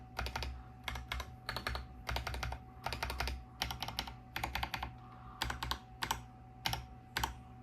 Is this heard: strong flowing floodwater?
no